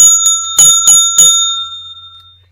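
A small bell is rung to close a wrestling talk show, with several quick bright dings in a row and a long ringing tail that fades out.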